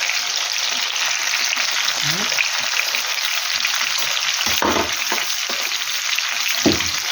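Onion frying in a pan together with aubergines and bell pepper, a steady close sizzle running throughout with a few brief scraping stirs.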